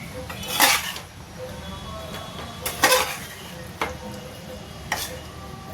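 A spoon scrapes and clinks against a pan while jackfruit vegetable curry is stirred. There are a few sharp metallic knocks over a soft cooking sizzle, and someone speaks quietly in the background.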